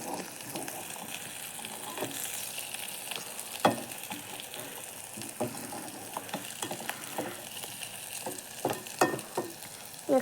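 Egg masala stirred and frying in a pan: a steady sizzle runs throughout, broken by scattered scraping and clinking strokes of the spoon against the pan, close and moderately loud, with no talking.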